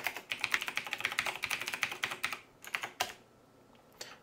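Fingers type a password on a computer keyboard, rapid close clicky keystrokes for a couple of seconds, then a few scattered presses after a pause.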